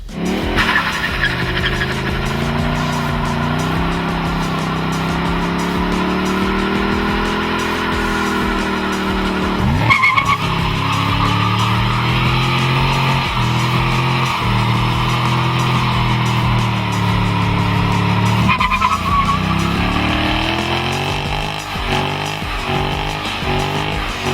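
Mustang GT, Camaro SS and Challenger SRT8 doing tire-smoking burnouts, loud revving engines and long squealing tires that surge and drop in pitch several times, with no talking.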